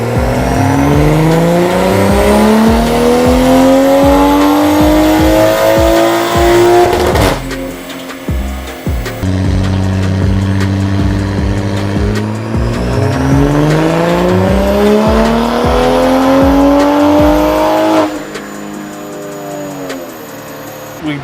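A Toyota MK5 Supra on a dyno runs two full baseline pulls on pump gas, the engine climbing steadily in pitch to a loud, close roar before cutting off and winding down between them.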